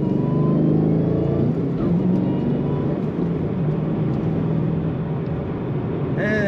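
A 2013 Chevrolet Camaro ZL1 in sport mode accelerates, its exhaust a loud, continuous low rumble heard from inside the car, easing slightly as it settles at speed.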